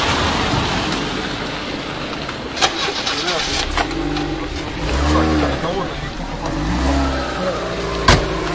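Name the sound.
car driving up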